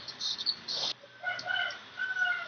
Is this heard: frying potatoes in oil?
no